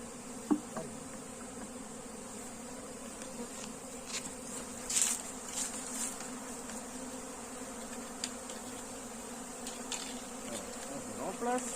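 Honeybees buzz steadily throughout as a rescued hive is set back in place, a dense, continuous drone close by with occasional louder passes of individual bees and light handling knocks, no talking.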